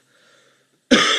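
A single harsh cough bursts out close and loud after a moment of near silence, from a man who has been ill for a few days.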